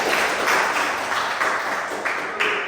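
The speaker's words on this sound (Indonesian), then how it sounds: "kasih tepuk tangan dulu semuanya" A class of trainee teachers bursts into applause, a loud, dense wash of clapping from a roomful of people that carries on evenly for a couple of seconds with no talking.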